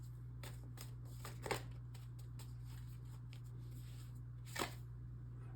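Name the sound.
shuffling tarot cards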